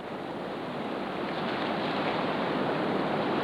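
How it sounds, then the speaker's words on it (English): White-water river rapids crashing around a boat with its engine cut, a dense continuous roar of rushing water, loud and close, swelling slightly throughout. "The crash of water around us grew steadily louder as we tried to control the head-on rush of the boat."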